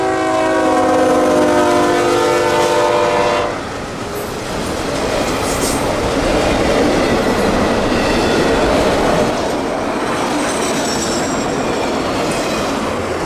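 An empty freight train about 2,200 feet long rolls out of a siding, loud and close, with a horn blast at the start giving way to steady rumbling wheels and squealing rails, no voices.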